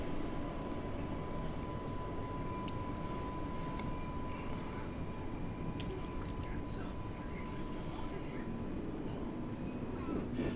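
A Class 484 electric train on the Island Line in Train Sim World 2, on a snowy day, hums with a steady, continuous motor drone and rolling noise. Faint clicks and rattles come through at a fairly quiet level.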